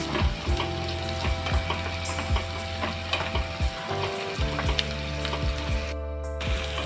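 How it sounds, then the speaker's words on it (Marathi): Onion frying in a pan for a Maharashtrian val bean dish: steady sizzling with repeated sharp clicks and scrapes from stirring, close and continuous. "छान असा कांदा आहे बघा इथे फ्राय करून घेतलेला आहे"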